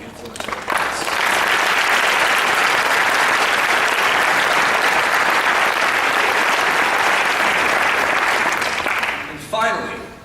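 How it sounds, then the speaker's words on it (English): A big, long round of applause for parents at a 2015 baccalaureate ceremony, a dense crowd clapping steadily for about nine seconds before fading, with a voice resuming at the end. "I'd like everyone to give a big round of applause for all the parents"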